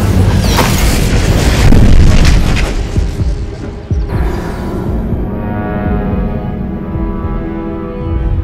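An Incendio fire spell cast in the video game Hogwarts Legacy, a deep booming whoosh with rumbling low throb, loud at first and then settling into a lingering hum with scattered crackles.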